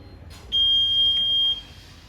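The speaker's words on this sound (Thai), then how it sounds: "จะมีเสียงเตือนงี้" One high-pitched electronic warning beep from a GS-838 touchscreen electric bed, lasting about a second, clear and steady against a quiet background hum.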